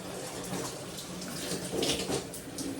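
Shower water runs steadily over hair being wetted, a continuous broadband hiss and splash close by with no talking.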